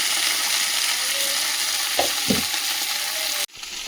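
Tilapia fish frying in hot oil with onion and green chilli, a loud steady sizzle with a couple of brief stirring knocks, then the sound cuts off sharply near the end.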